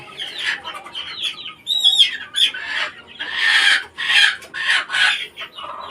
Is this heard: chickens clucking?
yes